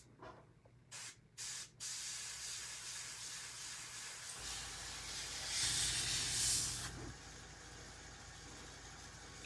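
Airbrush spraying paint onto a custom Halloween mask, with a few short hissing puffs, then a sustained close spray hiss that grows louder in the middle and holds over a low compressor hum.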